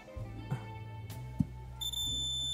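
A digital multimeter's continuity buzzer sounds a steady electronic beep at the end, after a low hum and a few small clicks, while testing an X Bass M5380 car power amplifier that is completely dead.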